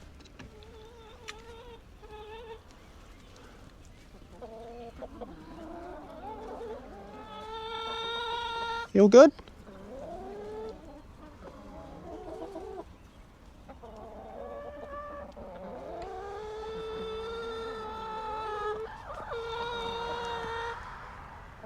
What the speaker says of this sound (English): Yeah, happy chickens.